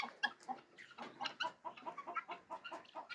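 Chickens cluck steadily at a farm chicken house, a dense chorus of overlapping calls from many birds close by, with no talking.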